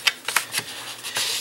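A sheet of paper being cut with scissors while preparing a 3D butterfly paper craft, giving a few crisp snips close up, spaced irregularly.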